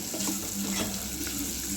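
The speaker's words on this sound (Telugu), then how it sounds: "ఈ పన్నీర్ని మంచిగా వేయించుకోవాలండి ఆయిల్లో" Cubes of paneer frying in oil, a soft continuous sizzle and crackle at low level, steady throughout with no voices.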